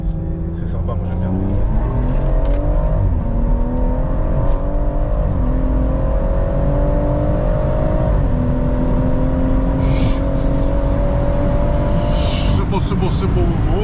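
Stage 2 flex-fuel BMW M140i accelerating hard, loud and close, its engine note climbing through the gears with shifts in pitch, while people talk over it.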